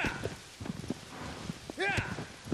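A horse's hooves clip-clop in irregular soft steps in Shadow of the Colossus, fairly faint and close. A brief vocal sound, like a whinny or voice, rises near the end.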